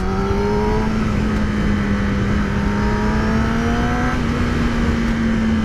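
Engine of a 2017 Kawasaki Ninja ZX-10R sport bike on a road test, a steady loud drone with a slowly rising pitch as it holds speed, thick wind and road roar underneath, no talking.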